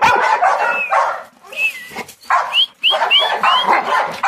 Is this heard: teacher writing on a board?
no